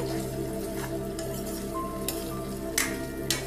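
Onions frying in oil in a pan for a sweet potato and brinjal tamarind curry: a steady, continuous sizzle with an even low hum beneath, broken by a few short, sharp clinks or stirs near the end, with no talking.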